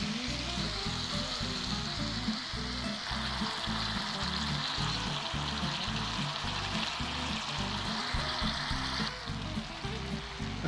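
Fat for pasta amatriciana frying in a pan, a steady loud sizzle and crackle that holds continuously with no talking.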